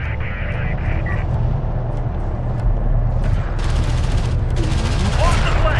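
Turrets in Homeworld: Deserts of Kharak fire rapid bursts with a dense crackle, over a constant low engine rumble and a brief game voice near the start, and the bursts grow thicker and busier toward the end.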